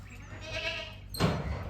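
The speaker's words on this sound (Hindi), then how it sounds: "बहुत खतरनाक बकरा है ये लाल वाला।" A farm goat bleats once in a drawn-out cry, then a second louder, harsher bleat follows close by, with rural background noise underneath.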